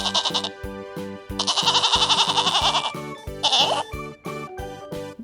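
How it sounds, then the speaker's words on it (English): Domestic goat bleating in a farm setting, three loud bleats rising over a steady rhythmic musical beat with no talking. "Goat is a domestic animal."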